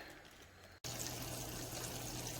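A mountain creek flows steadily over rocks, a continuous close wash of water after a brief break, with no voices.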